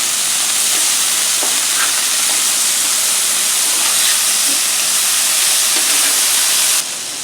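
Burger patties sizzle on a Blackstone griddle as they are flipped, a loud steady hiss close by with a few soft scraping taps, and no one talking.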